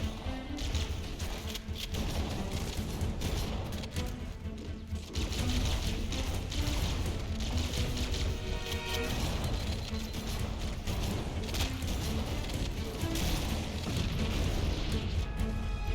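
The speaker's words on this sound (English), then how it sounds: "A lot of explosions." Dense, continuous Halo video game audio packed with booming blasts, crackling bursts and gunfire, loud and chaotic throughout, with a brief dip partway through.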